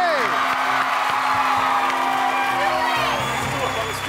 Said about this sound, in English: Cody, you got a cheering section.